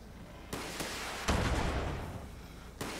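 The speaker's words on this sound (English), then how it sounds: "The sounds of explosion really soothe me." Explosions in a PC video game: three heavy booming blasts over a low rumbling bed, the loudest and longest near the middle, each cutting in suddenly and fading into the background roar.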